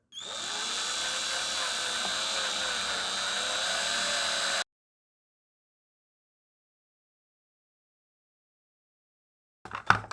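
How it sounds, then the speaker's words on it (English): A power drill whirs steadily at high speed for about four seconds, close by, drilling into the plastic body of a gel blaster gun, then stops abruptly, followed by silence and a few faint knocks. "I'm going to drill right here in the corner of this design"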